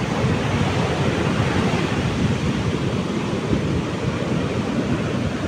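Steady roar of surf breaking at Na Kluea beach in Phang Nga during a surfing contest, a continuous broadband wash with wind buffeting the microphone and no voices.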